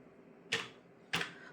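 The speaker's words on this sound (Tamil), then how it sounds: "அந்த கேப்சாவையும் கரெக்டாக டைப் பண்ணிக்கோங்க." Two sharp, separate keystrokes as a captcha code is typed on a computer keyboard, close and clear, each a brief percussive click over a quiet room with no talking.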